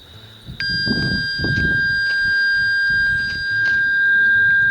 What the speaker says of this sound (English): This tone is going to be a little bit annoying.